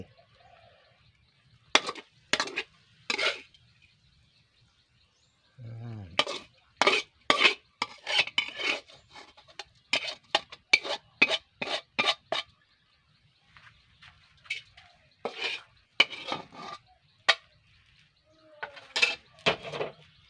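Spoon scraping and tapping on a plate as stir-fried holy basil is ladled over fried eggs in a home kitchen, in a run of sharp clinks and scrapes with short pauses between.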